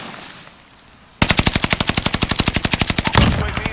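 A Type 11 light machine gun fires in Call of Duty Warzone: one loud, sustained automatic burst of evenly spaced shots lasting about two seconds, starting abruptly after quiet background ambience and ending with a short tail.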